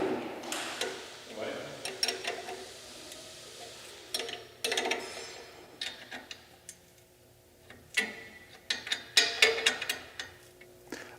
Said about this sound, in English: we come back to the front and tighten our two other motor bolts